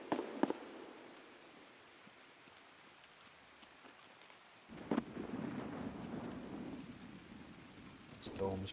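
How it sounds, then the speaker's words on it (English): Thunderstorm in Escape From Tarkov: steady rain patters throughout, with sharp thunder cracks near the start and middle, and a heavier rolling rumble building toward the end. "Storm's popping off."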